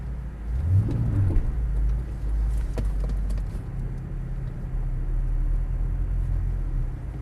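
A Ford Mustang Bullitt drifting, its engine giving a loud, continuous low rumble that swells and eases with throttle and rings with a few sharp higher squeals, heard close up with no voices.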